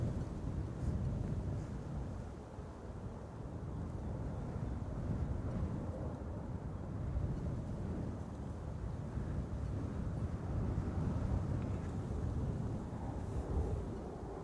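Wind gusting at Amsterdam Schiphol Airport, a steady low roar with mic buffeting that swells and eases throughout, no voices, no distinct engine.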